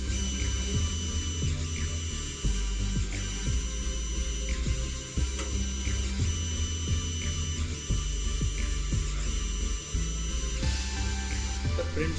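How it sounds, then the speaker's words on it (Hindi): A V30 3D printer running a print, with a steady mechanical hum and soft ticking, whirring stepper movements repeating through the whole stretch, close and continuous with no talk. "यहाँ पर आप देख सकते हैं आपकी प्रिंटिंग स्टार्ट हो चुकी है।"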